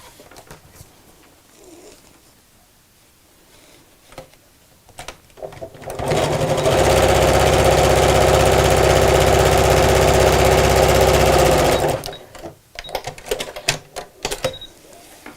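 A sewing machine stitches across the centre of a fabric craft bag with pockets, quiet handling at first, then a loud steady whirring run of about six seconds, followed by clicks and fabric shuffling.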